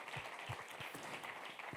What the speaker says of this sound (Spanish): Den un aplauso al Señor, aleluya.